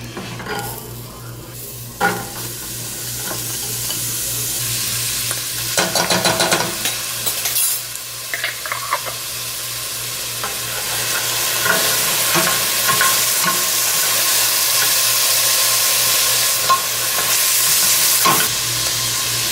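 Garlic, onion and the white parts of green onions sizzle steadily in warm sesame oil in a skillet, a dense continuous fry with occasional stirring scrapes and utensil knocks throughout.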